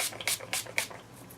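Hair spray bottle misting onto box braids in several quick bursts, roughly four short hissy spritzes spaced evenly, close and fairly soft with quiet pauses between.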